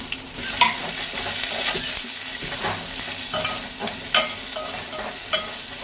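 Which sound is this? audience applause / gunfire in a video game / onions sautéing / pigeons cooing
onions sautéing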